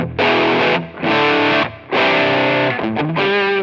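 Heavily distorted chords from a Saito S-622CS electric guitar ring out in a few sustained bursts, thick and saturated, played alone.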